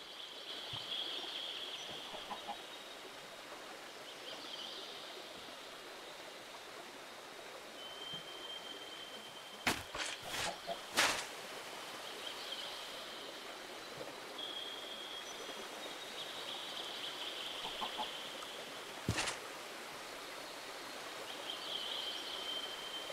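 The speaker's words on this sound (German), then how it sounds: "Das Blubbern vom Wasser?" Steady rushing, bubbling water in a Minecraft build, resembling a small waterfall, fills the whole stretch, with a few sharp clicks and brief chirps rising above it.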